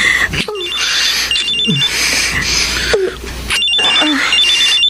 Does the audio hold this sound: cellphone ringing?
yes